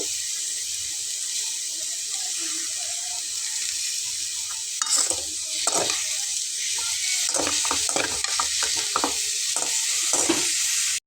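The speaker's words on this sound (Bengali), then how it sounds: "ধনিয়া পাতা একটু বেশি করে দিয়ে খুব ভালোভাবে নেড়ে চেড়ে মিক্সড করে নেব" Potato bhaji frying in a pan with plenty of coriander leaves, under a constant bright sizzle, while a spoon stirs it in a run of scraping knocks during the second half.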